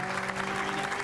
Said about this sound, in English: if you can give a warm applause to Dominic